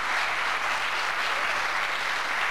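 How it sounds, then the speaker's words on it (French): A studio audience on a television football show applauds guests from the press, a dense, even, loud wash of clapping that holds steady for the whole stretch with no talk over it. "on pouvait les applaudir"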